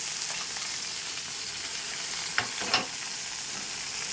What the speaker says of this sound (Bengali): এই এটাই করে মাছ ভাজছি